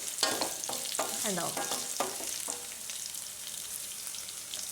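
Cauliflower pieces frying in a pan, a steady broadband sizzle with a few scraping stirs near the start, close and continuous; a voice says one short word.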